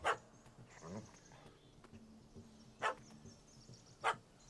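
A dog barks in The Witcher 3: Hearts of Stone, giving three or four sharp, well-spaced barks over quiet game ambience, with no talk over them.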